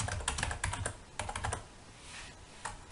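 Bursts of quick close keystrokes on a computer keyboard while naming a Windows 8 shortcut, typed in short clusters with brief pauses between them and no talking.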